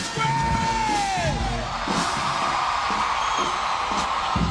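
A packed stadium crowd at a college football game between UAPB and Southern University yells, whoops and bellows in a loud, sustained roar, with a falling whistle-like cry near the start.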